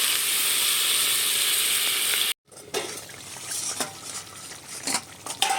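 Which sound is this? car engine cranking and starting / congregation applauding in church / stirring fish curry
stirring fish curry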